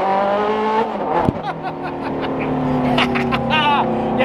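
A Ferrari 430 Challenge race car engine holds around 4,000 RPM with a loud, harmonic-rich drone from inside the cabin, and a voice talks over it.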